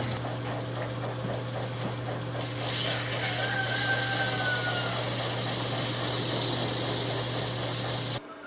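A Baileigh BR-18M-1B bead roller runs at a faster speed with its back gears removed while polishing metal, giving a steady motor hum with rubbing and grinding over it for about eight seconds before cutting off abruptly.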